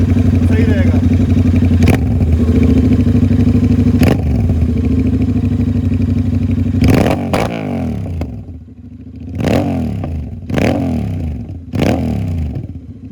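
A Royal Enfield Continental GT 650 or Interceptor with a loud aftermarket exhaust revs hard, then drops into repeated throttle blips with crackling pops on the overrun, close and very loud, with a voice talking at times.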